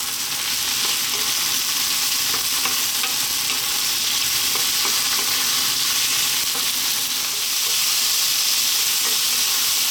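Chicken breast and eggplant fry in a pan over lively heat, a loud, continuous sizzle with scraping stirring strokes throughout, close and without talk.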